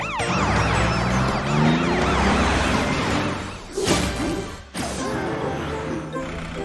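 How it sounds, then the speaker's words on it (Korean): A toy super police truck's siren wails in repeated rising and falling sweeps, loud and close, broken by a brief crashing thud partway through. "사이렌을 울려요, 슈퍼 경찰 트럭."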